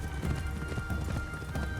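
Horse hooves in the video game Assassin's Creed Shadows clip-clop in a quick, steady rhythm on hard ground, close and moderately loud over a faint background hum.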